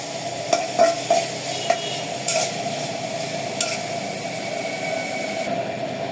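Onions stir-frying in a pan for chicken fried rice, a steady sizzle with several sharp clinks and scrapes of the spatula in the first few seconds, then an even frying hiss to the end.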